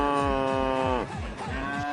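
A cow gives a loud, close, drawn-out moo that dips and wavers partway through before carrying on.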